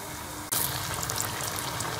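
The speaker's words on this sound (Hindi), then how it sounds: "खूबसूरत सा गोल्डन कलर आने तक हम दोनों साइड से जो है वो कचौरियाँ फ्राई कर लेंगे।" Chicken kachori dropped into hot oil, with a sudden bright sizzle breaking out after a quiet moment and then a steady, crackling fry that carries on to the end.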